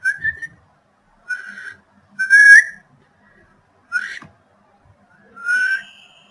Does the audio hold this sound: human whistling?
yes